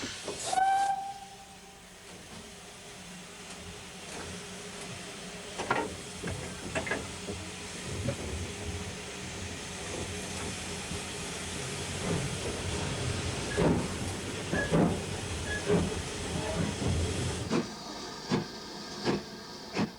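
British steam locomotive departing, giving a sharp whistle near the start, then steady hissing steam with rhythmic chuffs and clanks building as it moves off, no talk.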